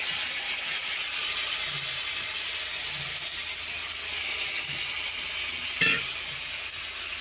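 Whole cumin seeds sputter and sizzle in hot oil for a vegetarian mushroom curry, a steady close frying hiss with a brief utensil clatter near the end and no talking.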